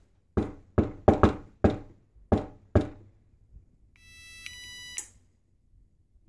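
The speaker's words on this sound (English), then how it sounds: "enable it using your knock sequence" A secret knock pattern is rapped on a surface fitted with a knock sensor, seven sharp close knocks in an uneven rhythm, followed by a short electronic beep tone from the device.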